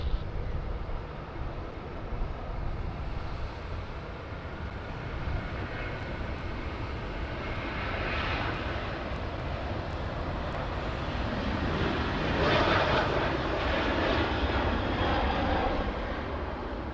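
Airliner jet engines roar at Sydney Airport near runway 16 right, a steady broadband rumble heard from a distance that swells slightly toward the end, with no talking.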